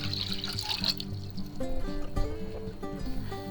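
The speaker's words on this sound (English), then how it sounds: "we're going to go ahead and add 4 cups of water" Water pours from a measuring cup into a stainless steel saucepan for soup, a soft continuous splash that rises in pitch as the pan fills, quiet and close.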